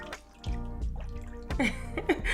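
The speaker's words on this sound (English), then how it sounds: "So now I'm just wetting it." Water running from a tap as a hand wets a hair wig, with irregular splashes and drips close by and a steady wash of flow throughout.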